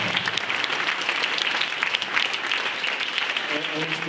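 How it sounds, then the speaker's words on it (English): Audience applause after a school speaker invites the crowd to clap, dense steady clapping filling the room throughout with a few voices mixed in. "let's give him a round of applause"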